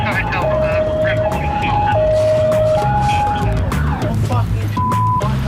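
An ambulance siren wails in a steady two-tone pattern, loud and close over constant road rumble and engine noise from a following police car.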